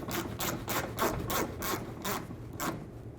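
Rhythmic ratcheting clicks from a screw being driven into a Honda Element's fender liner and bumper cover, a steady run of about ten close, evenly spaced turns with no talk.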